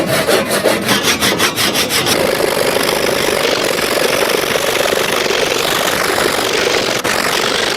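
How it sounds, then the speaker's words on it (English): A handsaw cuts wood for a longbow with loud, close back-and-forth strokes in a fast rhythm, settling into a continuous rasping grind. "I'm going to use any kind of handsaw, and I'm going to cut every 6 inches"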